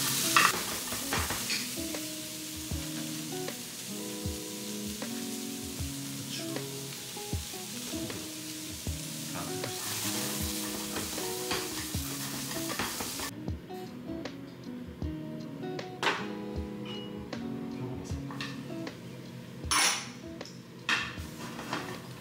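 Onions and other pale vegetables stir-fry in sesame oil for gungjung tteokbokki, with a steady sizzle broken by repeated scraping and clanking of a utensil against the pan, heard close with no talk.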